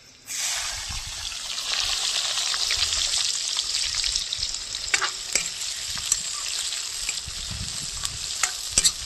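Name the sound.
chopped onions frying in oil with spices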